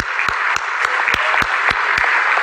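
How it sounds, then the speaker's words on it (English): Audience applauding during a talk, a dense steady wash of clapping with a few louder, evenly spaced claps standing out near by, loud and without voices. "Give a big round of applause for him."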